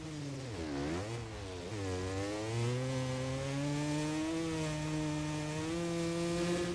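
A 250 two-stroke dirt bike engine in the MX vs ATV Legends video game revs and climbs steadily through the gears, its buzzy, rasping tone loud and continuous throughout with a brief dip and surge near the start.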